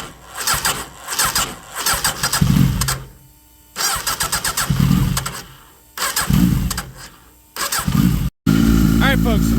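A Suzuki Hayabusa motorcycle engine fitted with a Max ECU cranks and catches in several rough start attempts, sputtering between pauses, then settles into a steady running idle at the end, close and loud.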